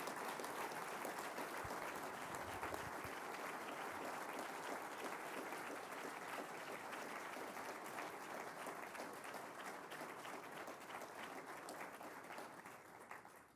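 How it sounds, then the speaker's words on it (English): A long, steady round of applause from a banquet crowd greets a Hall of Fame inductee at the 2015 Illinois Golf Hall of Fame ceremony, dense and sustained before slowly tapering at the end. "I would not dare interrupt that very well-deserved round of applause for a lifetime of service to this game"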